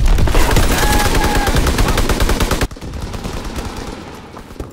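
Automatic gunfire in Call of Duty: WW2 multiplayer hardpoint, a loud rapid stream of closely spaced shots for over two seconds, then cutting off into quieter background battle noise with distant shots.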